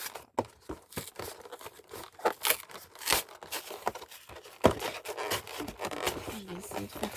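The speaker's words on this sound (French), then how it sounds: "aujourd'hui on va s'ouvrir le coffret Kershak X de Cynthia" Cardboard and plastic packaging of a Pokémon Garchomp ex card box set being opened up close, with irregular bursts of tearing, crinkling and rubbing amid quieter gaps.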